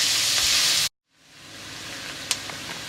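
Onions frying in a pan give a loud, steady sizzle that cuts out briefly, then builds back to a softer continuous hiss with a couple of faint pops.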